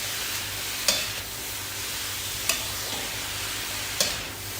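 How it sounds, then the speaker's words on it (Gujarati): Grated carrots sautéing in ghee for gajar halwa, a steady crackling sizzle with three sharp spoon clinks against the pan as they are stirred at regular intervals; no talking. "એકાદ મિનિટ માટે સાંતરીશું જેથી કરીને ઘી એકદમ સરસ રીતે બધી રીતે ફેલાઈ જાય અને ગાજર જે છે એ સરસ શેકાઈ જાય"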